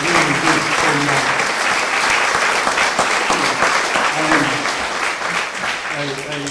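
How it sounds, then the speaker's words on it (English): An audience gives a loud, dense round of applause, a sustained wash of clapping that fills the whole stretch, with a voice talking over it. "I really want to give them a round of applause because they really did so much."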